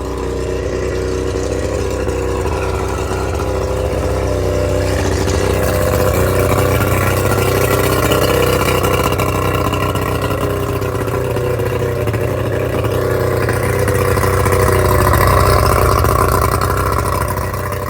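A Tohatsu 50 outboard engine just back from a carburetor rebuild idles high and loud close by, a steady droning hum that swells slightly in the middle and toward the end.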